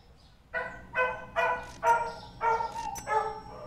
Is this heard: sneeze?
no